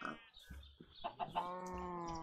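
Chickens cluck in a video game, a run of short, close clucks and squawks followed by a sustained, tonal call, with faint background noise and no talk.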